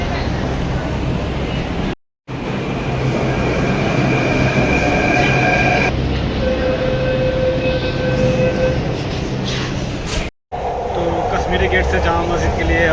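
A Delhi Metro train rumbles loudly along the track, with wheel squeal and tonal hums rising and falling, and two brief dropouts of the sound.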